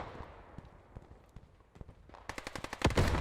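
Rapid sharp bursts of gunfire from a World War II cannon in the game Post Scriptum, scattered at first and then quickening into a dense, loud volley at the end.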